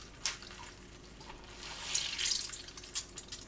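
Blanched seaweed rinsed in cold water in a kitchen sink, faint splashing and trickling with a few soft drips and sloshes that bunch up near the end, no voices.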